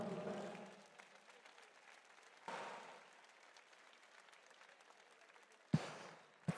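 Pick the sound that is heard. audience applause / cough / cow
audience applause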